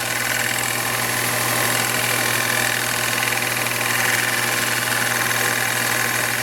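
A lathe turns HDPE plastic under a high-speed steel tool taking light cuts, giving a steady, loud, continuous machine drone with a constant hum and hiss and no pauses throughout.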